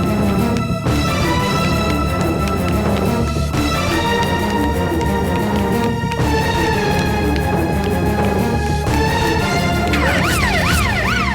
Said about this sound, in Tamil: சென்னை மாவட்ட கலெக்டர் அர்ச்சனாவுக்கு கொடுக்க வேண்டிய ஹார்ட் ஆம்புலன்ஸ் பாண்டிச்சேரியில இருந்து புறப்பட்டாச்சு